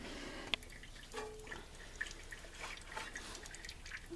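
Oil drains from the pan of a Ford Powerstroke 7.3 diesel during an oil change, a faint trickle with a few sharp drips under quiet workshop background.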